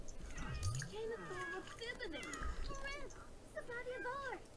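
A cat in The Sims 4 gives a series of meows, close and fairly loud, sliding up and down in pitch across several calls in a row.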